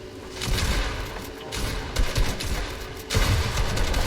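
Fortnite Battle Royale gunfire in a trio fight, loud bursts of rapid shots and booms recurring across the clip with a dense battle din between them.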